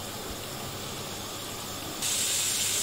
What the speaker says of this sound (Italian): Iniziando a soffriggere.